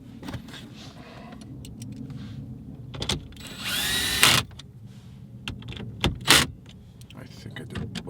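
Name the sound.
power drill clutch slipping while tightening screws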